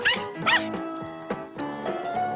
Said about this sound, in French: Oh, le chien.